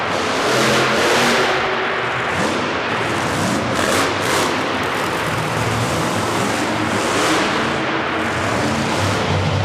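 Ironman Joe Nichter's monster truck at a Corbin, Kentucky monster truck nationals wheelie competition roars continuously, its engine revving hard and loud with a surging, booming drone for the full stretch.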